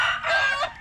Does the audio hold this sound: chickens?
yes